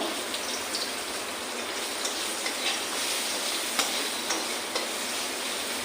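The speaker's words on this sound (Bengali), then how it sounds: "পেঁয়াজটা একটু হালকা করে ভাজা করে নিই" Chopped onions sizzle in a hot wok with cumin and chilli, a steady, close frying hiss broken by small pops and crackles, with no talk.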